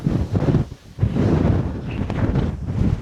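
Strong wind roars and buffets the microphone in loud, continuous gusts, briefly easing for a moment before surging again.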